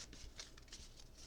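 Tarot cards being shuffled give a soft, rapid riffling and flicking texture, quiet and close, with no talking over it.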